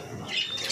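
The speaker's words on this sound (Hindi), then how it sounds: "ये वो ब्लैक वाला कबूतर एक और वो चीनी कबूतरी वो दाना खा रही है" A brief, high squawk rises from a rooftop pigeon loft where a black pigeon and a Chinese hen pigeon feed alongside their chicks, close and fairly clear over a quiet background.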